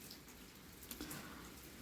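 Steady rain falls on an overcast day, a dense, even patter of drops spread across the whole stretch with a couple of slightly louder splashes midway; fairly faint and continuous, with no voices.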